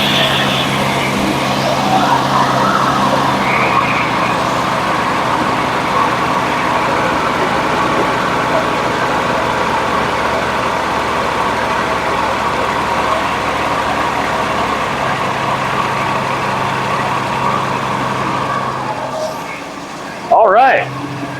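A 1965 Ford Mustang engine that has not run in years idles with a steady, loud rumble that holds for most of the stretch. Voices are heard over it before the engine quiets and a brief clatter ends it.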